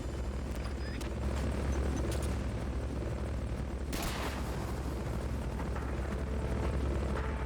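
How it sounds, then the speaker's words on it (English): Recovery helicopter in Metal Gear Solid: Peace Walker, a steady throbbing rotor drone that fills the whole stretch, loud and close, with a few sharp bangs and a brief burst of noise partway through. "Recovery helicopter is complete."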